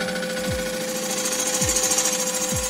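A woodturning lathe hums steadily while a tool cuts into a spinning workpiece, giving a dense, continuous, close buzzing whir with a few low thumps and no speech.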